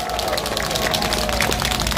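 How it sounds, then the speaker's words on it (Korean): A rally crowd at an outdoor counter-protest near Samgakji in Yongsan, Seoul, applauds in a loud, dense, steady wash of clapping and crowd noise with no pause. "그분들을 위해서도 박수 부탁드립니다."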